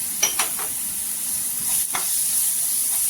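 Turmeric and spices are sautéed in oil for vada pav. A steady close sizzle runs throughout, broken early on by a few quick scraping stirs of a spoon in the pan, with no speech.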